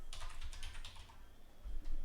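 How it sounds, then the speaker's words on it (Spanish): Steady typing on a computer keyboard, with rapid soft key clicks in an irregular run over a low background rumble, fairly faint and without talk. "teclado."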